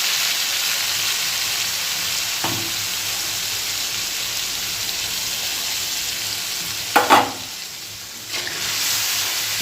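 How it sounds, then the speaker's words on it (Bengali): Whole cardamom, cinnamon and spice paste sizzling in hot oil in a pan while cooking a vegetarian elephant-foot yam curry, a steady close fry with a couple of sharp clatters and a brief surge of hissing. "এবার একটু গোটা এলাচ আর দারচিনি দিয়ে দিলাম তেলে"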